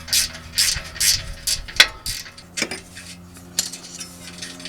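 A ratchet runs nuts down on exhaust studs of a 1997 Lexus LX450 to clean the threads, giving bursts of rapid clicking, a few sharp metallic clinks and taps, heard up close with no talking.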